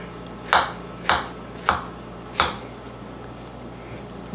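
A knife cuts through peeled peaches on a cutting board with four sharp, distinct chops at an even, unhurried pace, close and clear against a quiet room.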